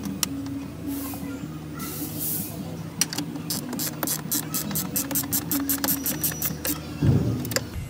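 A hand ratchet tightens bolts on a twin ARB air compressor mount under an INEOS seat, with bursts of fast, close, rhythmic clicking separated by pauses, over a steady low hum.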